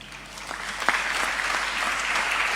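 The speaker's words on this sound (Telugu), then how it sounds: "చప్పట్లు కొట్టిన యవన బిడ్డలారా" An audience at a spoken address claps together, a dense, steady burst of applause that stays even throughout the short stretch.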